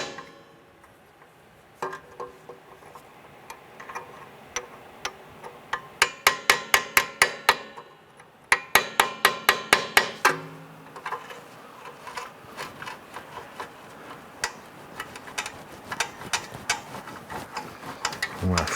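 Hammer tapping locking tabs into place on a parking brake cable of a 1995-2001 Ford Explorer, producing many sharp metallic taps, sometimes in quick rapid runs, sometimes spaced and lighter, over a quiet background.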